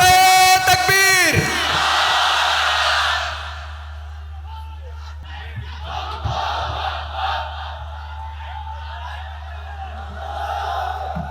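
A large gathering at a religious address answers the takbir call by shouting Allahu Akbar, a loud massed roar that swells and then fades into lingering crowd murmur over a steady low hum.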